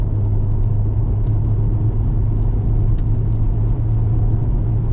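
A Cadillac with a gearbox fault and slight steering play cruising along a UK road, heard from inside as a steady, loud low rumble of engine and road noise that holds constant throughout with no voices.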